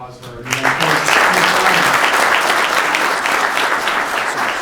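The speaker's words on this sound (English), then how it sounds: "Put a round of applause for our" Loud, dense applause bursts out after a short spoken introduction at a football club meet-the-coach gathering for Steve Snyder, sustained and close for several seconds before tapering slightly.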